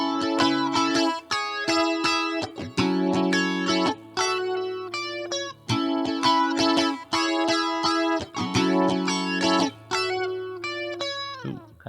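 Electric guitar plays the lead line of a song intro in clean, fast single-note phrases with ringing harmonics, played solo with short gaps between runs and no talking.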